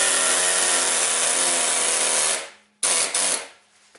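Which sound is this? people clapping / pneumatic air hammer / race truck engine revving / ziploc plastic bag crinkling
pneumatic air hammer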